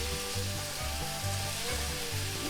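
Pork chops frying in a cast iron skillet give off a steady, dense sizzle, with a low, rhythmic bubbling that pulses underneath throughout.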